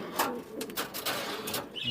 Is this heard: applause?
no